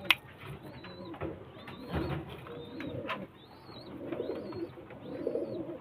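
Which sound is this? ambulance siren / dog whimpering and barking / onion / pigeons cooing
pigeons cooing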